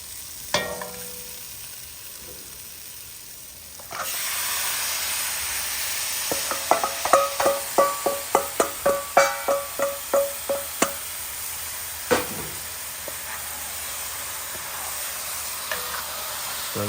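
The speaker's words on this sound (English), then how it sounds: "we're gonna drop our gizzards in" Chicken gizzards dropped into hot curry paste hiss and sizzle loudly, then a run of rhythmic spoon scrapes and clacks against the pot as they are stirred, with steady frying underneath.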